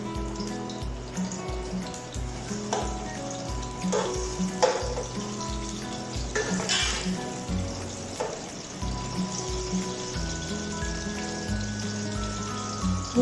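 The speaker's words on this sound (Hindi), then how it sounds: "गरम हो चुका है, हम इसमें प्याज डालेंगे।" Onions sizzle in hot oil in a pot, the first step of a chicken pulao. The frying is a steady, crackling hiss with soft spatters and occasional stirring, heard alone at close range.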